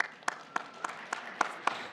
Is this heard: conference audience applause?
yes